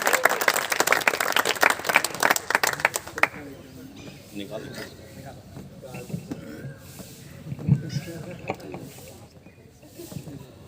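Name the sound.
audience applause in an auditorium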